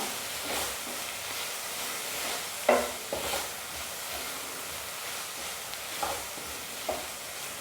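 Chopped vegetables with red chilli powder sautéing for spring roll filling, a soft continuous sizzle with occasional scraping stirs, quiet and close.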